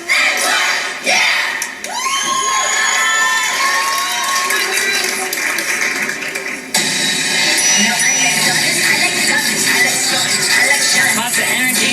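Loud crowd cheering and shouting at a cheerleading competition, a continuous roar of voices with whoops and yells throughout, swelling again partway through.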